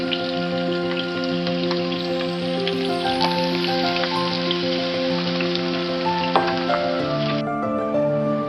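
Meat browning in a hot pan for Chinese glass noodles gives a steady, dense crackling sizzle with scattered pops, continuous and fairly loud, no talking over it.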